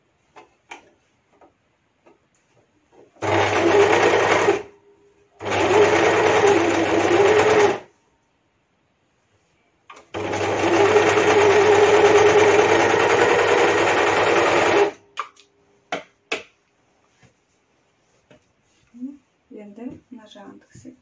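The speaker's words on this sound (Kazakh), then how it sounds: "тез-тез тігіп жатырмын." An electric sewing machine stitches a T-shirt in three loud, close bursts of steady rapid whirring, separated by short pauses, with a few light clicks and handling sounds afterward.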